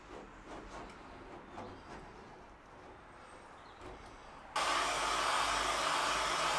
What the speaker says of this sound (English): all I'm going to do is blow it with a heat gun